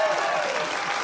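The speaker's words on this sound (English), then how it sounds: "There's a lot of applause from me." Audience applause at a Hollywood Walk of Fame star ceremony, a dense steady wash of clapping throughout, fairly close and sustained.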